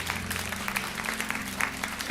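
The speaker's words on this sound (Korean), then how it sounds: "우리 박수로 한번 웰컴백" Church congregation at a Sunday worship service applauding to welcome someone back, a steady wash of clapping throughout a short stretch with no talk.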